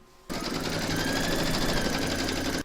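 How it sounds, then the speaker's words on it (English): An embroidery machine stitches a placement outline in the hoop, starting abruptly into a fast, even mechanical whirring hum with rapid needle clatter, close and steady to the end, with no talking. "load file C into your machine and then stitch round number 1 to get your placement outline"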